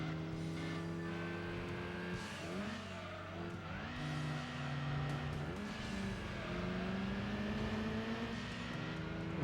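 A turbocharged Evo 3 car engine in Gran Turismo 2 on the PlayStation revs hard and continuously, its pitch dipping and climbing again through quick gear shifts early on before settling into a sustained high drone, with no talking.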